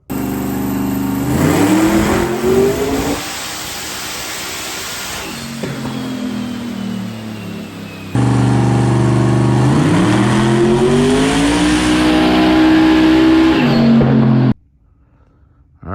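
A twin-turbo 388 LSX V8 in a car strapped to a dyno at 20 psi of boost, revving loud and close through rising pulls. The roar climbs in pitch, drops back, surges again in a long sustained run, then cuts off abruptly near the end.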